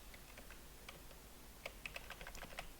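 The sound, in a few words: computer keyboard keys pressed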